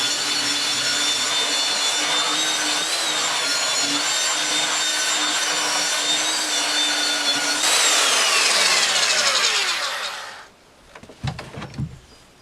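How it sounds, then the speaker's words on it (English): A power sander runs steadily across the beveled edges of wooden frames on an 18-foot sailboat under construction, a loud continuous whine that shifts pitch near the end before cutting off, leaving a few light knocks. "I'm just sanding the bevels across the frames."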